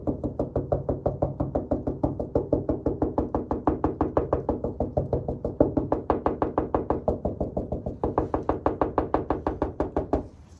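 Knuckles rap over and over on a Bondo-filled front body panel of a Honda CRX, a fast, steady run of dull, close knocks whose tone shifts partway through as the knocking moves across the panel.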